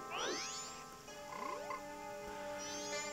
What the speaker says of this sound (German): Was machen Frösche hier?